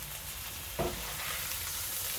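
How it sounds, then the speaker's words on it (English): Lamb neck sears in a Dutch oven on an Outbacker stove, making a soft, steady sizzle throughout with a single faint knock or stir partway through. "And we'll sear it."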